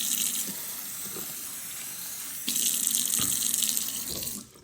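Tap water pours into a bowl of Orbeez as a steady close splashing stream that grows louder partway through and then stops.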